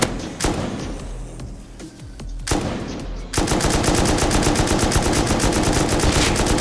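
Gunfire in modded Rust, including an AK: a few sharp single shots ring out, then a loud, fast, sustained burst of automatic fire takes over for the rest, close and with no talk.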